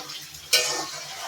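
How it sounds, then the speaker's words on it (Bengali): Tomato goes into fried garlic in a pan with a sudden burst of sizzling, which settles into a steady, close frying hiss with light stirring. "দেখো রসুন ভাজার ভেতরে টমেটো দিয়ে দিচ্ছি"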